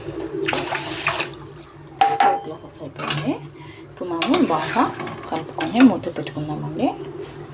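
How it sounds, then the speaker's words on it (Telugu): A pot of rice with four glasses of water, prepared for ghee coriander rice, is stirred with a utensil. Scraping, clinking and sloshing sounds come close up in uneven bursts, and a voice talks over parts of it. "ఇప్పుడు మనం బాగా కలుపుకొని మూత పెట్టుకుందాం."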